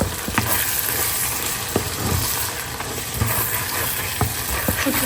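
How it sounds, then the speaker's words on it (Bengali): Dried fish (shutki) frying in a pan with whole dried chilies, onion and salt, a steady close sizzle and hiss with scattered stirring clicks and no talk. "এখন যেটা করতেছি সেটা হচ্ছে এখানে আমি সুটকিটা রান্না করতেছি"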